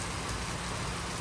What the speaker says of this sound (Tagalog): Pakinggan ng ulan doon.